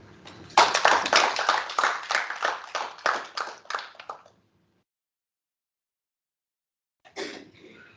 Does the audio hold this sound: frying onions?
no